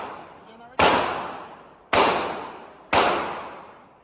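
Three loud gunshots ring out at a shooting range, evenly spaced about a second apart, each a sharp crack with a long decaying echo, close by.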